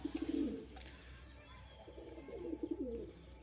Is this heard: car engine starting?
no